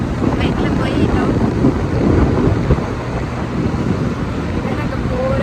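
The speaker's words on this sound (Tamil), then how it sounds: "மாமா ஓட்டிகிட்டு இருக்கார் பைக்கு." Steady, loud wind buffeting the microphone on a motorbike ride along a road, a dense low roar filling the whole stretch with slight surges and no clear engine note.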